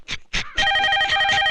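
A mobile phone rings with a steady, bright electronic ringtone that begins after a couple of short voice bursts and continues loud and close to the end.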